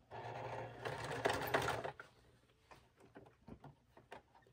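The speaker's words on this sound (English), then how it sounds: "So with this thick part right here, I know my sewing machine is going to have some trouble." A home sewing machine stitches through a thick fabric section, giving a loud steady whirring burst for about two seconds, then quieter, halting clicks and thumps as the fabric is pulled through by hand.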